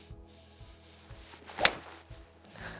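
A single sharp golf iron strike on a ball for a low shot, a quick swishing thwack midway through, with quiet outdoor background before and after.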